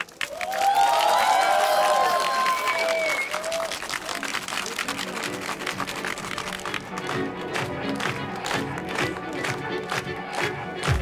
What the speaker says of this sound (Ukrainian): Оплески Ірині